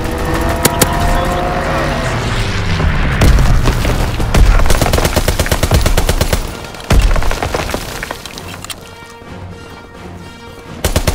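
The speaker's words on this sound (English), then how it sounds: "Strafing run inbound." In the Call of Duty WWII video game, a fighter plane strafing run sends loud rapid gunfire and explosions crashing through a chaotic multiplayer battle, with bursts of shots stacking over steady rumbling.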